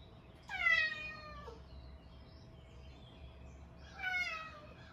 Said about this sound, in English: This is my cat Travis.